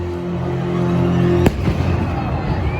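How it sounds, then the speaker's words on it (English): Stage grenade effect set off during a live Jurassic World dinosaur arena show: a single sharp, loud bang cuts through a sustained hum, followed by a scattered crackling tail and crowd noise. "Allison, throw the grenade!"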